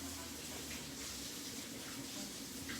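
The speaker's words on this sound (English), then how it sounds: "I'm gonna wash my hands" Tap water runs steadily into a sink as hands are washed in a home kitchen, a continuous soft hiss with no break, quiet and close.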